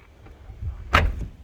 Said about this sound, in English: I'm going to go ahead and close this door.